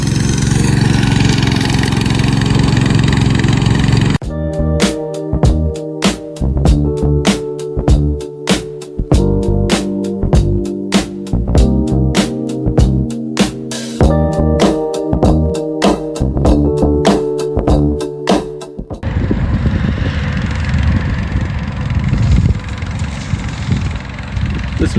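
SDLOOL 750 remote control lawnmower engine running outdoors, a loud steady drone that shifts into a rapid, rattling chug with an uneven pulse before returning to a rougher, broadband roar.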